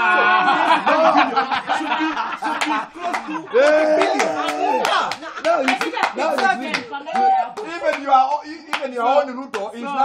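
Scattered hand claps ring out through a political gathering, mixed with overlapping voices and bursts of chuckling that run under the clapping throughout.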